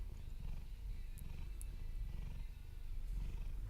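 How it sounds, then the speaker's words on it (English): A cat purring close up, a steady low rumbling purr pulsing in a slow regular rhythm of in and out breaths, continuous and fairly loud with no talking. "Can you hear the cat purring?"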